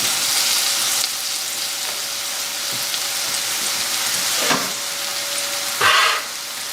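Sliced zucchini and garlic sizzle steadily in a hot pan, a continuous close frying hiss broken by a few brief stirring scrapes near the end.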